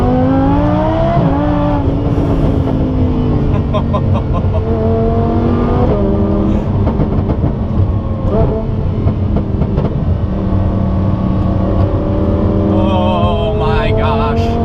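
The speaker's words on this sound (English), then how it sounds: "Let's see how she feels." Mercedes E63 on an open road, engine droning loud and close through a long drive with several climbing revs and shifts, a gritty steady roar throughout.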